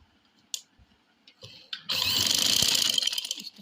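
A sewing machine stitches a men's kurta, a few faint clicks and taps first, then a dense, steady whirring run of stitching for about two seconds, close by.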